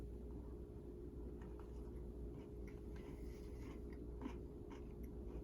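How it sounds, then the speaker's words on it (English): Someone bites into and chews a McDonald's Oreo Spam burger, soft close-up chewing and faint crunches at low level over a steady background hum, no talking. "Let me try to kick another bite where I can get some more Oreos."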